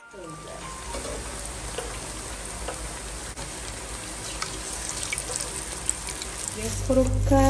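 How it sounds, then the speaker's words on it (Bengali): Lentil fritters (dal bora) frying in hot oil for iftar, a steady close sizzle and crackle running throughout, with a louder burst near the end as more batter goes in. "এখন ফ্রাই করা স্টার্ট করবো ডালে বড়া থাকি"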